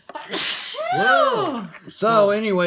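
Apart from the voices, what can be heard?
sneeze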